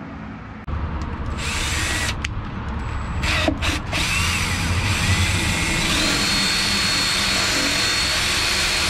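A power drill enlarging a hole in a dumpster trailer starts up abruptly and whines continuously, loud and close, with brief stutters as it bites into material, then runs steadily.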